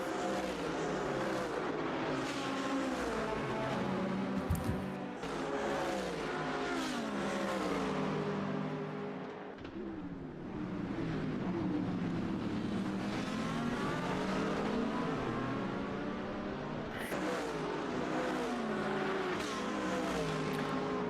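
Race cars at the 24 Hours of Daytona, with a Lamborghini in the pack, roar past in waves of rising and falling engine pitch, loud and continuous with a brief lull midway.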